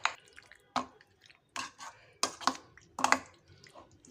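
Fried capsicum pieces stirred into a capsicum curry gravy in a pan, close, soft wet squelches and scrapes in irregular bursts with quiet gaps between.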